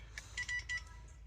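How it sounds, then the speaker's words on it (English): A phone gives a quick run of electronic beeps, one short tone then several clipped bursts in an uneven, Morse-like rhythm, close and fairly quiet over a low steady hum. "My phone is sending Morse code."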